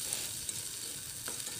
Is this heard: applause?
no